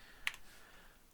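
A single sharp keystroke on a computer keyboard, entered while typing an IP address during network setup, stands out briefly and faintly over a quiet background.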